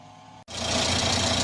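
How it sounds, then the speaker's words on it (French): A 1986 Renault Super 5 GTL with the 1.1 engine cranks briefly, catches after a short pause and settles into a loud, steady idle with a rough, throbbing pulse, recorded close by. "Bon voilà, démarrage au quart de tour."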